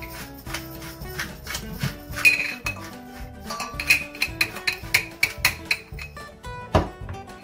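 Panzanella salad of salted tomatoes is lightly mixed in a bowl, with a busy run of clinking, scraping utensil and dish knocks in an uneven rhythm, close by.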